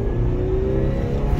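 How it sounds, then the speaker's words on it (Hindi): Toyota Innova Crysta petrol engine pulling hard at full throttle in second gear, a steady loud droning rev heard from inside the car with no talking. "फुल एक्सेलरेशन दे दिया था अभी सेकंड गियर के अंदर"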